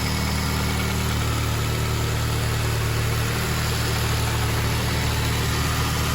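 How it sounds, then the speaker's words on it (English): A Honda Civic with a swapped K20A engine idles steadily, a close, even low rumble with a constant hum and no revving, heard alone. "The motor sounds really healthy."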